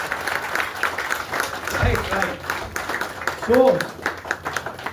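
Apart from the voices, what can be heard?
audience applause and clapping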